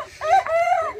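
A rooster gives a short, loud, close call with a rising and falling voiced tone, heard alone over a quiet roadside background.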